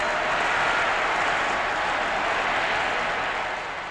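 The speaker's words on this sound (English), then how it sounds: "The vast crowd went wild," A vast crowd roars and shouts in wild approval at Nasser's speech announcing the canal reclaimed for the people, a dense, steady wall of cheering from start to finish with no break.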